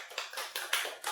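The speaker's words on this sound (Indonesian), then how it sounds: "Boleh tepuk tangan dulu untuk Kezia" Studio audience applauding a young gaming YouTuber named Kezia, with a few quick bursts of hand clapping that rise and fall in short waves, moderately loud and with no talk over it.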